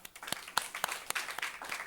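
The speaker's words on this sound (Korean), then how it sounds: "우리 함께 박수로 찬양하도록 하겠습니다" A church congregation at a Sunday morning worship service claps in praise, a handful of distinct, fairly sharp claps spaced irregularly with quieter patter between them.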